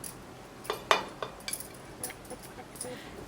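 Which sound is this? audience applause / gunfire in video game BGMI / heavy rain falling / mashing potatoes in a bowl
mashing potatoes in a bowl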